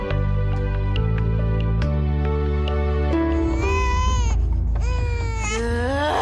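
Loud, continuous infant crying with rising and falling wails over a steady music bed in a TV drama scene, no talk in between.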